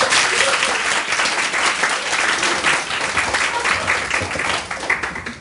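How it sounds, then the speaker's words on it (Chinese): An audience applauds steadily and loudly for about five seconds at a two-minute self-introduction event in Taipei, a dense, even wash of clapping from a room full of people. "大家掌声欢迎。"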